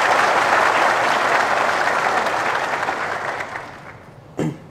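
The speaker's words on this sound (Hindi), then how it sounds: "एक बार ताली मार दीजिए आप फैमिलीज़ के लिए" An audience gives loud sustained applause for families at an Assam Rifles honour ceremony for retirees, fading out over a few seconds before a short thump at the end.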